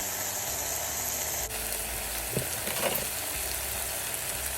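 Steady, loud sizzling of chopped garlic frying in olive oil, a constant crackling hiss with a few brief stirring clatters, no voices.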